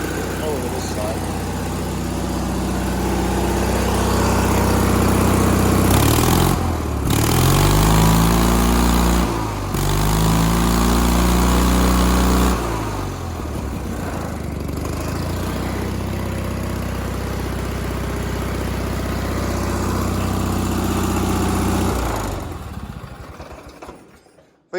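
A John Deere 317 tractor engine runs close by with a steady, loud chug, briefly revving up a couple of times before settling back to idle, while someone talks over it.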